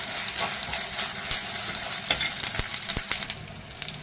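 Green chillies and curry leaves sauté in hot oil for prawn kuzhambu, a steady close sizzle with occasional stirring scrapes and taps from the spoon against the pan.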